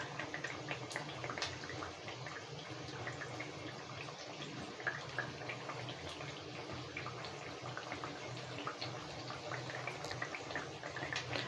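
Sorbhaja, a traditional Bengali sweet, fries gently in a pan of oil, making a faint, continuous bubbling sizzle with small pops and crackles scattered throughout.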